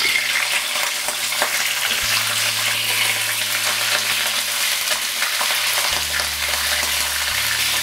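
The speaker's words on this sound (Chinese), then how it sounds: "加点油，把螃蟹和虾煎一下。" Crab and shrimp frying in a little oil in a hot pan at home, a loud, continuous close sizzle with crackling spatters and faint stirring throughout, with no talking.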